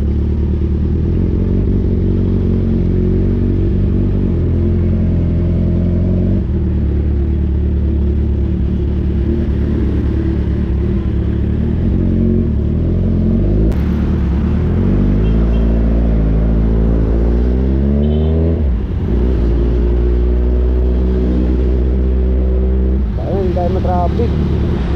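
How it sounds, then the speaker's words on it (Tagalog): Busy street traffic near an SM mall in Santa Rosa, Laguna: loud, close engine rumble and passing vehicles with revving and clatter, with talk heard over the traffic. "kasi lagi traffic dito sa SM eh."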